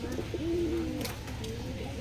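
Crossbred Sirazi and local pigeons in a cage give a steady, close-up cooing, with a low rounded coo swelling in the middle and softer murmurs around it.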